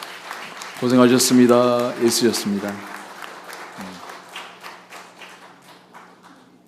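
A Korean church congregation at a Sunday worship service applauds their pastor as flowers are presented, with steady clapping running under a man's spoken words of thanks and fading gradually toward the end.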